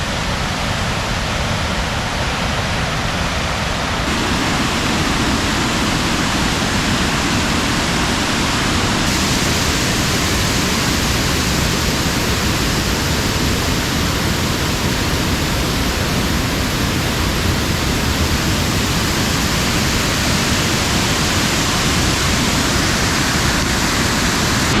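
Loud, continuous roar of a waterfall in Nantahala National Forest running with heavy flow, a dense unbroken rush of falling water close by with no talking.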